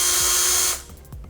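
Snap-on NanoAxcess cordless 1/4 inch screwdriver with variable speed and soft start, whirring steadily at close range, then stopping abruptly, followed by a few faint clicks.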